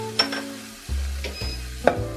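Kung pao chicken with peanuts and chopped scallions is stirred in a hot pan. A soft sizzle runs under several sharp scrapes and clinks of a utensil against the pan, spaced unevenly and close by.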